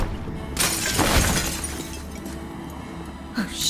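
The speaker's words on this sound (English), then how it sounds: "What I don't get is why the glass breaks when you open this thing." Glass shatters as a container is opened in Cyberpunk 2077, a sharp crash over a dense, steady game soundscape, with a brief brighter burst near the end.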